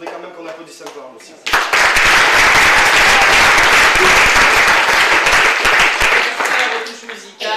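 A theatre audience at a stage premiere bursts into loud, dense applause after a brief spoken moment, with a voice heard before the clapping, which holds steady for several seconds and then eases.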